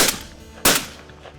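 Gunfire from hunters shooting at wild boars outdoors: two sharp reports, a softer shot followed by a louder, nearer one about half a second later, each trailing off quickly.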